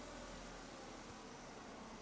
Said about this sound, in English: Start and idle the vehicle.